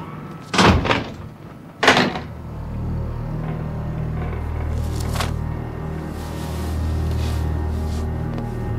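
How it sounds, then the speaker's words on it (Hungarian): A door closes in a quiet interior, with two loud, close thuds near the start followed by a low, steady room hum and faint background movement. "És zárd be az ajtót."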